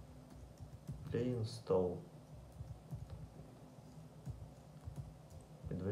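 Typing on a computer keyboard during a macOS Big Sur install on a Mac Pro, a scattered run of light key clicks, close and soft, while someone speaks over part of it.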